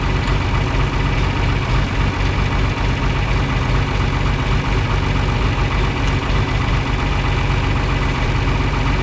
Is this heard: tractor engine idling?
yes